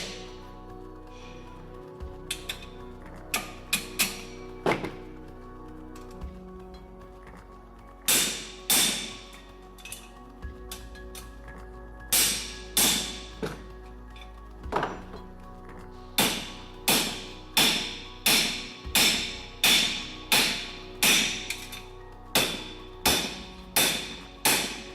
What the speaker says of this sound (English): we actually do individually size each hoop and hand rivet the finished